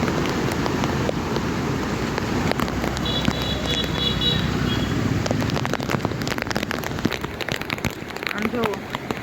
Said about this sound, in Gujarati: ત્યાંથી આટલો વરસાદ પડે છે